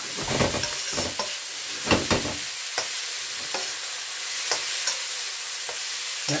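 Prawns stir-frying in a pan over a gas flame, a steady close sizzle broken by repeated clattering scrapes and tosses of the food.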